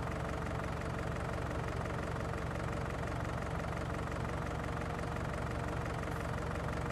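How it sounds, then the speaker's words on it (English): John Deere tractor engine running while mowing in a farming video game, a steady low droning hum that stays constant and close for the whole stretch, with no voices. "The tractor sound is probably not very good, but the mowing sound, I mean, is not bad."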